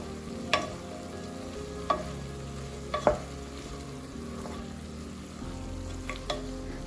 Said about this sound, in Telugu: ఇప్పుడు మనము ఈ ఇంగ్రీడియంట్స్ అన్నిటిని కూడా బాగా కలుపుకుందాము.